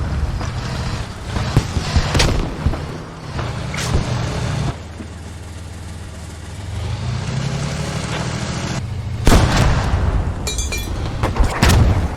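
Heavy booming blasts from a tank firing in the military video game Squad, a few loud, deep reports separated by a low rumbling engine drone, with sharper cracks near the end.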